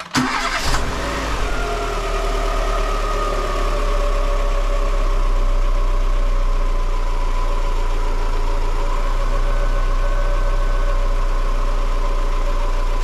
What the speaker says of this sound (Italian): Avviare il motore.